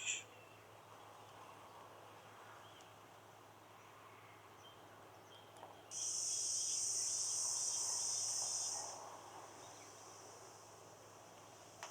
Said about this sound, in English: Let's bring the cicadas down a little bit.